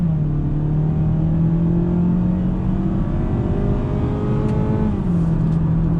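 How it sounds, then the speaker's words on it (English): A 2019 Mazda CX-3 compact SUV in sport mode accelerating on throttle from a rolling start, its engine note a steady, loud in-cabin drone rising in pitch, then a brief dip as it shifts near the end. "I'll put in sport, slow down here a second and do a little bit of a rolling acceleration"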